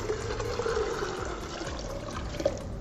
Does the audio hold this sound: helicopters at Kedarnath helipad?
no